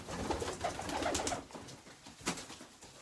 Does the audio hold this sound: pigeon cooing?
yes